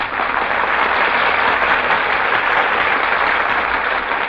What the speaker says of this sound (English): That applause, ladies and gentlemen, is for our stars, who have just walked from the wings onto the stage